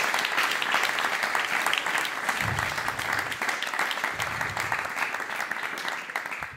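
Audience applause at an Italian stand-up comedy show fills the room, dense steady clapping from a large crowd lasting throughout, holding fairly even before easing slightly toward the end.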